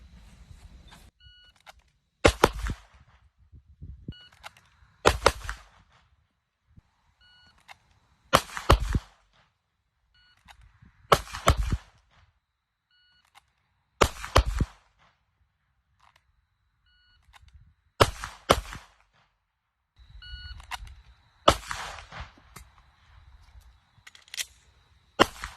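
Rifle fired from a concealed position, several sharp loud reports spaced a few seconds apart, each a broadband crack with a short decaying tail, with quiet gaps and faint background noise between shots.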